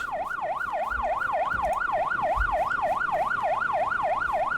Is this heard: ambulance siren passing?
yes